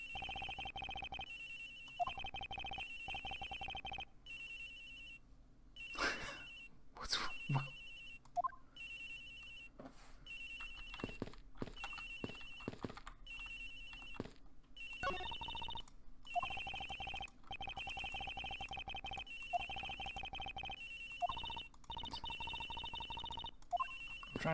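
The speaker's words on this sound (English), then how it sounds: "It's your doll ringing." A phone ringing from inside a monkey doll in Ace Attorney Investigations, a repeated electronic ringtone pulsing steadily for a long stretch, loud and close, with brief game sounds between rings.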